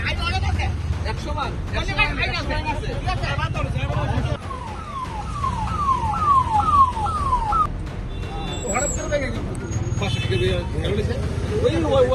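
A wailing emergency siren from a fire service vehicle at a road accident involving a bus and a motorbike, rising and falling in a rapid repeated pattern over heavy traffic noise, with people talking nearby.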